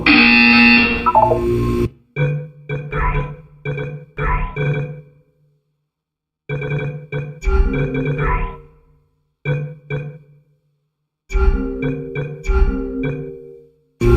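Buzzer sounds from the video game Portal 2, a series of harsh, loud electronic buzzes in short repeated bursts separated by silent gaps, with no talking over them.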